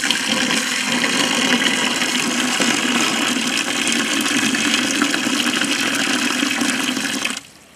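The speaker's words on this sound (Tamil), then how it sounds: "தேவையான அளவுக்கு தண்ணி ஊற்றிக்கலாம்." Water pours steadily and loudly into a pot of country chicken soup for several seconds, a continuous rushing stream that cuts off abruptly near the end.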